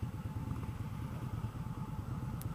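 A 2015 Indian Scout motorcycle with a Stage 1 package idles at about 1050 rpm. The engine gives a steady, even low pulse with light mechanical ticking, close and alone.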